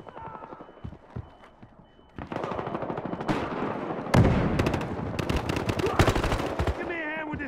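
Rapid automatic gunfire and single shots crackle loudly through a Battlefield Hardline police shootout, bursts building to a dense, near barrage with brief radio-like voices underneath.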